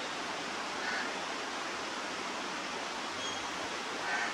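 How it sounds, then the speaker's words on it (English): Steady, soft rush of flowing water, like a small creek spilling over gentle falls, continuous and even with no voices. "A small creek with its gentle waterfalls beckons me to sit quietly"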